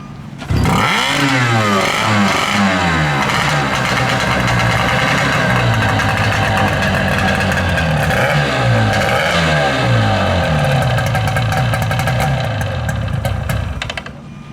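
New outboard hydroplane racing motor starting up and running close by, loud and raspy, revving up and down in repeated surges before settling into a steady high roar and cutting off near the end.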